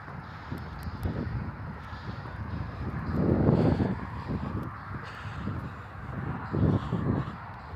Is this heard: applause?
no